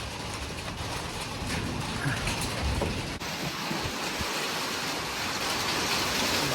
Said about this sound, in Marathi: जोरात चालू झाला पाऊस